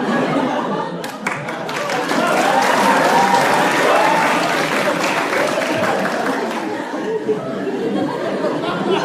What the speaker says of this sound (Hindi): ये ताली क्या मार रहे हो बे?